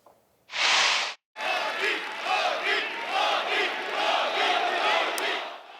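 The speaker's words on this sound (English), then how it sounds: "They're yelling for Prime Minister Modi of India" A big crowd in Toronto cheers and yells for Prime Minister Modi of India, first in a sharp loud burst, then in a steady roar of many voices that continues to the end.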